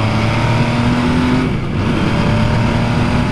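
A nearly new 2020 MV Agusta Superveloce 800 motorcycle on a road test ride holds a steady, loud engine drone mixed with wind rush, with a slight dip midway as the throttle eases briefly.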